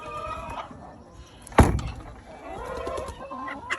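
Hens clucking inside a farm coop where eggs are laid, soft scattered calls close by, with a sharp thump of the hinged lid flipping open partway through.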